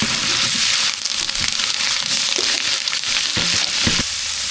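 Mustard seeds, urad dal and onion frying in hot oil, a loud, dense crackling sizzle that runs without a break, with spattering pops and stirring scrapes near the pan.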